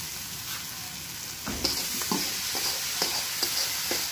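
Onions and curry leaves frying in a pan in a Ramanagara dhaba kitchen: a steady, moderately loud sizzle that swells when the leaves drop in, followed by a few spaced stirring scrapes.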